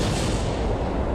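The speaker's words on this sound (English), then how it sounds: "we heard explosions in space again" An explosion in space in the Kerbal Space Program video game: a single loud, broad boom that fills the whole short moment with dense rumbling noise and no talk.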